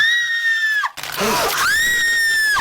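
A woman lets out long, piercing, high-pitched screeches, loud and close. Two sustained shrieks are split by a brief break filled with a rough, breathy sound.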